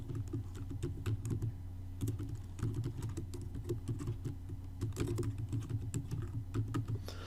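Fast, steady typing on a computer keyboard, a close stream of light key clicks that runs without a break and with no talking.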